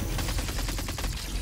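Laser gunfire from the futuristic VR shooter Solaris Offworld Combat rattles out as a rapid burst of repeated shots, dense and loud against constant game noise.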